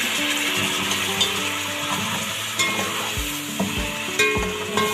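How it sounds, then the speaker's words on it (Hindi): Sugar and milk syrup bubbling in a pot of mutton zarda sweet rice, a dense continuous sizzle and bubbling with occasional soft pops, close and steady throughout without any voices. "आपको नज़र आ रहा होगा कैसे इसके बबल्स बन रहे।"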